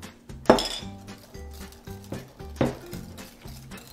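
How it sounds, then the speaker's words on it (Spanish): Clear gelatin is mixed in a bowl, with a spoon clinking and scraping against the sides in an uneven rhythm, close up and with no voices. "Y la gelatina cristalina la voy a mezclar aquí."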